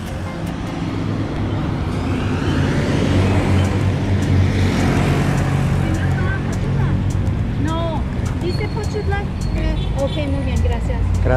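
Vehicles roar past on the Costera highway near Puerto Escondido, a loud continuous wash of passing cars and buses swelling as one goes by, with people talking faintly over it.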